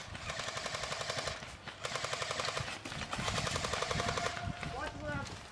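Airsoft guns laying down cover fire at an outdoor skirmish game, with long rapid automatic bursts from an M60-style support weapon and rifles, loud and close, broken by short gaps while players shout over it.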